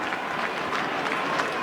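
A crowd at an Australian football match between Collingwood and Sydney applauds in a dense, even wash of clapping that holds steady for the whole short stretch.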